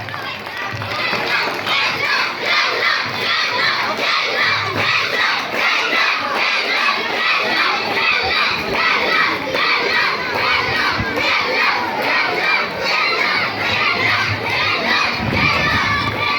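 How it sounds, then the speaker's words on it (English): A big crowd of students at a school's annual sports ceremony cheers and shouts continuously, loud and dense with children's voices yelling over one another for the whole stretch. "So keep cheering and motivating your team."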